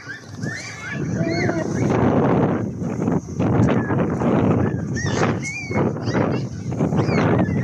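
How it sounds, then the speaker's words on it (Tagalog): Outdoors by a lakeshore, strong wind gusts buffet the microphone in loud, uneven surges with a constant rushing roar, and voices are heard under the noise. "Mahangin ngayon"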